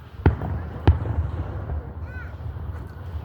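Fourth of July fireworks bursting outdoors, two sharp booming reports in quick succession followed by crackling fizz, with people talking nearby.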